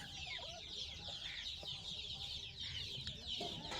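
Ten young cockerel chicks cluck and peep steadily in the background, faint and continuous, alongside a constant hiss of ambient noise.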